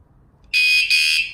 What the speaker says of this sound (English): That beep tells you that the alarm is activated